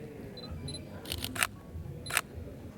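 A Sony a7R III camera shutter fires at 10 FPS in short rapid bursts of crisp clicks, two clusters of mechanical snaps over a faint background with a few small electronic beeps.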